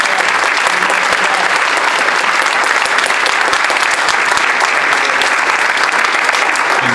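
A large audience claps steadily and densely for the full stretch at a university event at Emporia State University, with the applause loud, unbroken and without pauses.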